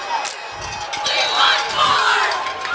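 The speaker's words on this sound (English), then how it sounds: "Nice crowd." Crowd noise at a high school varsity football homecoming game, Yale Bulldogs at Richmond Blue Devils, with a swelling roar of cheering and shouts from the stands, loud and continuous with scattered voices.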